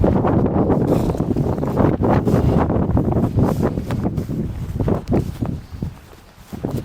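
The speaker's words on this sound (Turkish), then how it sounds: "Çok rüzgar olduğu için her yere oturamıyorsun." Strong wind buffets the microphone in a loud, continuous rumble, with some scuffing and footsteps underneath.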